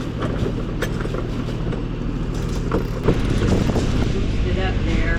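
Steady wind noise rushes across the microphone aboard a sailboat under way, with a low rumble of water and hull throughout and a brief knock near the middle.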